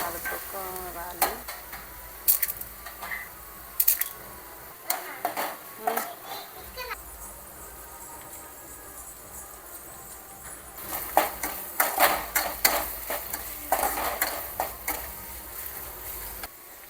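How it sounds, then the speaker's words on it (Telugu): Food is stirred and mixed in a pan during home cooking: intermittent scraping and clattering strokes over a soft sizzle, close by, with faint voices at times. "బాగా కలుపుకోవాలి."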